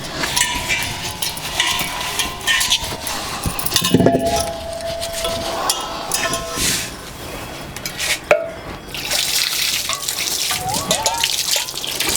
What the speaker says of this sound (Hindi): हम लोग इसको धो कर ही लगाते हैं